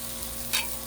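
A spatula scrapes and stirs food on a hot Blackstone griddle, a constant close sizzle with one brief sharp scrape partway through; no voices.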